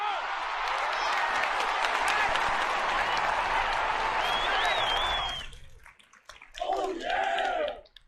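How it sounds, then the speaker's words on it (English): Applause for a guest on a live stream, a full, even crowd clapping for about five seconds that then fades out, followed by a short burst of other noise near the end. "Give him a big round of applause, guys"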